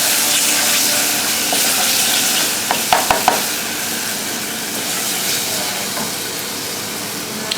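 Curry powder frying and being stirred in a pan for laksa, a steady close sizzle with brief scraping clicks from the utensil partway through.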